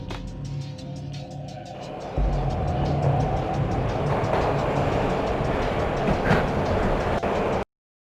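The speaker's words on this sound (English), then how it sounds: "This was my second train ride of the night." Max Payne game train riding on rails, a steady rumbling roll with rhythmic clickety-clack, preceded by a quieter stretch before the loud rail noise swells in and runs for several seconds before cutting off.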